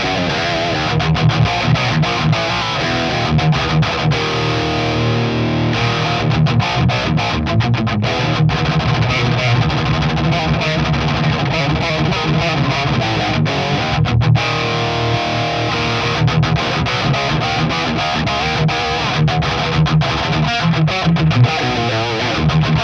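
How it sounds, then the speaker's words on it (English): An electric guitar plays distorted, heavy riffs through a boosted Splawn Quick Rod amplifier, loud and continuous with chugging rhythmic chords for over twenty seconds. "Then I'm just going to play a few riffs to give you even more impressions of this amplifier on my favorite tones"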